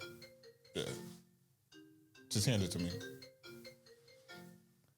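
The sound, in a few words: mobile phone ringing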